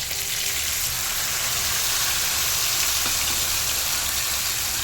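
Spices sizzling in hot oil in a pan for a Bengali bhetki fish curry with bay leaves, chopped tomato, cumin, garlic, chilli and ginger paste: a steady, dense crackling fry that holds level and close throughout, with no voices.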